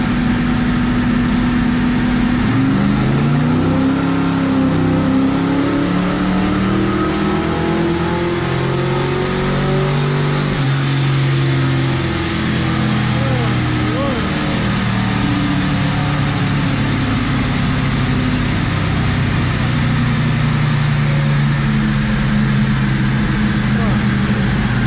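A 1971 Ford Mustang with a 351 Cleveland V8 and Edelbrock carburetor pulls hard in second gear, its loud engine note climbing steadily in pitch and holding strong under continuous road and wind roar, close up.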